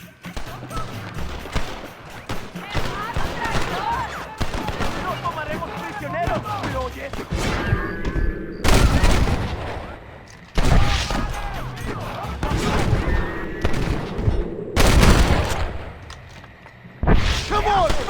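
Loud gunshots and crashing blasts at the gates of El Presidio in Red Dead Redemption burst in heavy, irregular volleys between stretches of battle noise, with voices calling out over the fighting.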